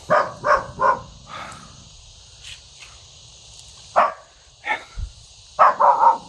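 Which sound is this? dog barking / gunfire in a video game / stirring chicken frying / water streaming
dog barking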